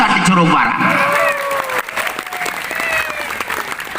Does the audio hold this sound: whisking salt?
no